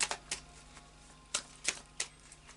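Tarot cards being shuffled by hand, a series of soft, quick riffling taps in irregular bursts, close and quiet, with no talking.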